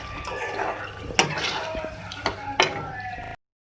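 Beef hara keema being stirred in a cooking pot, a soft scraping and sizzling bed with a few sharp clinks of a spoon against the pot, close by and fairly quiet.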